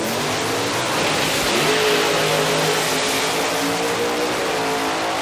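An outlaw nitro funny car, not supercharged, revs hard down the strip at Palmyra Dragway, its engine note climbing in a loud, continuous roar heard close up, with no talking.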